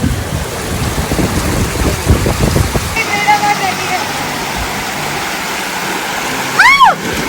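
Someone walks through fresh, flowing stream water on a road trip, with splashing steps and a steady watery rush up close; voices can be heard over it, and a brief whistling tone rises near the end.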